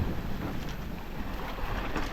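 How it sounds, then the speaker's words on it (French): Strong wind gusting across a sailboat at sea during an ocean crossing, with rushing water and roaring microphone buffeting, loud and continuous throughout. "ça s'est levé, le vent a tourné"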